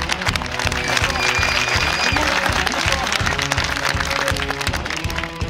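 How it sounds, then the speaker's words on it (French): A gathered audience at a Spider car meet on the Côte de Granit Rose applauds itself, clapping dense and continuous over a steady rhythmic background beat. "c'est tous s'applaudir parce que..."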